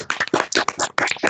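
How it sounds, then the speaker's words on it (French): Scattered applause from remote conference participants over Teams microphones, compressed and uneven, a dense patter of claps across the whole moment with no talk. "est-ce que tous les participants peuvent ouvrir leur micro et applaudir votre intervenant avant de clôturer la conférence?"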